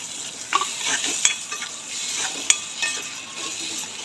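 Tomato and spices for chana dal bhaji are stirred in a sizzling pan, a steady close frying hiss punctuated by a few sharp clinks of the spoon against the metal.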